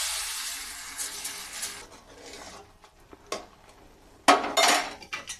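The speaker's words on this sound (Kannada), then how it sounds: "ಈಗ ನಾವು ಒಗ್ಗರಣೆ ಸಿದ್ಧಪಡಿಸ್ಕೊಂಡಿರೋ ಒಗ್ಗರಣೆ ಇದಕ್ಕೆ ಹಾಕ್ಕೊಳ್ತಾ ಇದ್ದೀನಿ" Coconut-oil tempering with chilli and curry leaves goes into a boiling cumin-pepper rasam, making a strong hiss that fades, followed by close metallic clinks of a ladle and pot.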